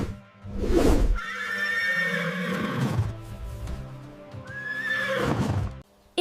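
A horse lets out a long, loud whinny that rises and wavers, followed by a second shrill neigh near the end, close up with a short breathy snort at the start.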